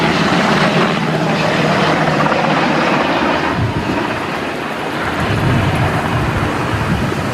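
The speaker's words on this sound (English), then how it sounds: "So we got 2 helicopters here right now." Firefighting helicopter passing overhead at a wildfire as it circles back to drop water, a loud, sustained rotor roar with heavy rumble that swells and dips slightly, no voices over it.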